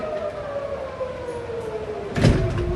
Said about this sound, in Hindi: यहाँ पे सायरन हर तरफ से बज रही है